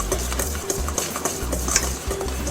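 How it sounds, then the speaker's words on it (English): A whisk circles briskly through dry biscuit ingredients with salt and the zest of one lemon, giving a steady scraping stir against the bowl with faint clinks and no talk. "Then we're just going to whisk around."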